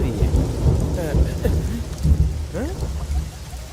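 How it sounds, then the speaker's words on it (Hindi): Steady rain with deep rumbling thunder in a movie thunderstorm scene, continuous and close, with a faint voice briefly heard. "ये तो बारिश हो रही है।"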